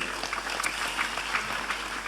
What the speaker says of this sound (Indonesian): tepuk tangan untuk Vanessa ini.